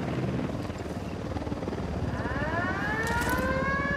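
A video game helicopter's rotor thrum drones steadily and loudly, joined partway through by rising, siren-like whining tones layered over the dense low rumble.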